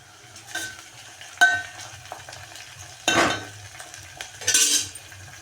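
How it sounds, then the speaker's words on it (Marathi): Chopped tomatoes and golden-fried onion cooking in oil for a moong dal amti, with a soft steady sizzle broken by a few louder clinks and scrapes of a spoon stirring against the pan; no talking. "टमाटे छान असं फ्राय होऊ द्यायचं आहे"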